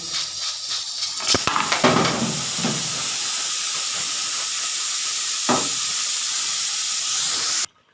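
A pressure cooker of black chickpeas vents steam in a loud, continuous hiss, with a few sharp bursts and clicks early on, then the hiss cuts off abruptly at the end.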